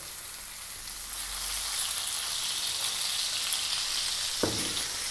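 A bone-in ribeye steak sears in a pan with olive oil, giving a loud, steady, close sizzle and crackle throughout, with one brief knock near the end and no talking.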